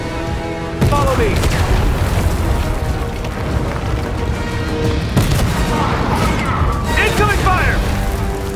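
Incoming gunfire and explosions during a Fortnite live event, a loud continuous barrage of booms and rattling fire under game voices, with heavier blasts near two, five and seven seconds.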